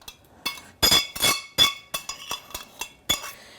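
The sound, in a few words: metal pan being scraped while cooking mince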